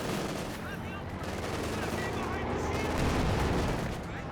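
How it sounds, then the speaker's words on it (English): Machine gun and rifle fire crackle in dense, overlapping bursts during a battle in the World War II strategy game Company of Heroes 2. The gunfire is steady and busy, and a commentator talks over it. "There goes the MG."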